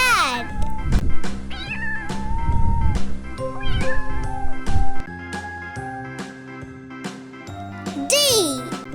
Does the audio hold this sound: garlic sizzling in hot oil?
no